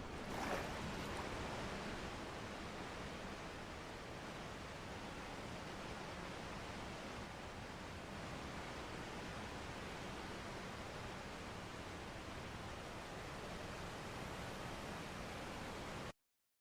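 A desktop computer's cooling fan roars loudly and steadily, a dense broadband rush like a jet engine that holds unchanged for about sixteen seconds before cutting off abruptly.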